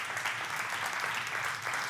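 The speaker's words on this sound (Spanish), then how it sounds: "den un aplauso al Señor" A church congregation applauds, a dense steady wash of many hands clapping at once, moderately loud and continuous throughout with no voices rising above it.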